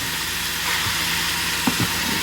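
Beef steams in a pot with a little water, giving off a steady, even hiss with a few soft bubbling pops near the end.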